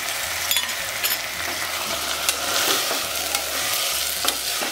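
Soaked, washed chickpeas added to a pan and fried for chana pulao, a loud, dense sizzle with stirring scrapes throughout, close by and without talk.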